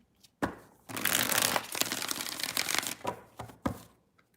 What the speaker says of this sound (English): Let's get 4 shuffles.